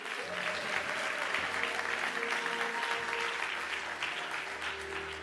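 Church congregation applauding in acclaim of God during a French-language sermon, dense sustained clapping with crowd noise and a held tone underneath.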